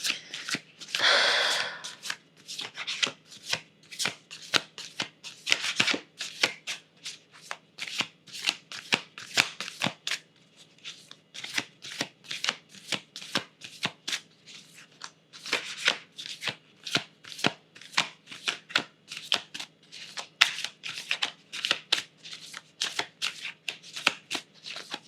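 Moonology Messages Oracle cards are shuffled by hand, close and fairly quiet, in repeated bursts of rapid riffling and sliding, steady throughout with no talking.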